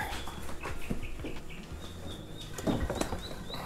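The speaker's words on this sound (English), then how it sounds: "The birds are chirping." Birds chirp outdoors in the early morning during a fishing trip: faint, scattered high calls and a few soft flutters over quiet background ambience, with no talking.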